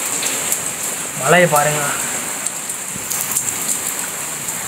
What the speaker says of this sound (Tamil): இதே மழை நேற்று பெஞ்சிருச்சுன்னா வெறுப்பாக இருக்கும்